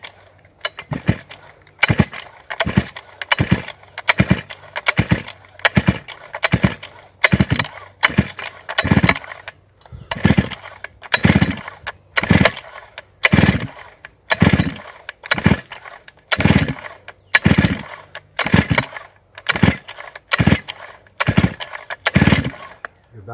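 A deliberately flooded chainsaw is pull-started over and over, with its chain brake engaged: more than twenty sharp, rhythmic cord yanks, each a close rasping burst, and the engine never catches.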